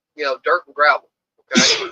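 Someone speaks a few words, then after a short pause comes a single loud, close sneeze.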